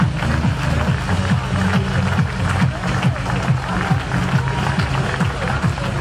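Crowd at a stage finish of the ZLM Tour 2015 cycling race, Eindhoven to Boxtel, clapping and cheering for the stage winner in dense continuous applause, with a commentator talking over it.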